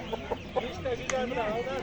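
Roosters at an outdoor poultry market give short clucks and warbling calls in quick succession, moderately close with some background noise.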